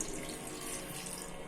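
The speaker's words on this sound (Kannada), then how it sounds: "ಒಂದು ಗ್ಲಾಸ್ ನೀರು ಹಾಕ್ತಾ ಇದ್ದೀವಿ" Water runs in a steady, quiet, continuous stream as a glass of water is poured in a home kitchen.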